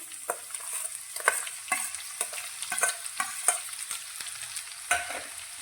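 Finely chopped onion frying in hot oil on a medium gas flame, a steady bright sizzle broken by repeated scraping stirs of a spoon in the pan, close and moderately loud, with no talking.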